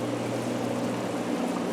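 Water poured steadily to fill a hydroponic water culture bed, a continuous broad rushing and splashing stream heard close, with no talk.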